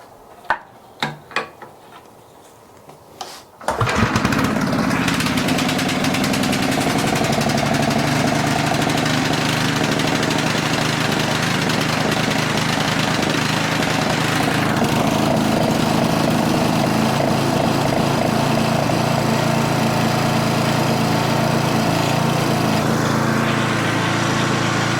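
A warmed-up Tecumseh generator engine, being fine-tuned after its mixture was leaned out, starts after a few quiet clicks and then runs loud and steady at a constant, even drone close to the microphone, with no talking.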